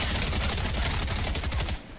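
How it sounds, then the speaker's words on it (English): Rapid gunfire from enemy players in Fortnite crackles in dense, overlapping bursts for nearly two seconds, loud and close, then cuts off abruptly near the end. "someone's shooting at us"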